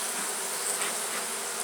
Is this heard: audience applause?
no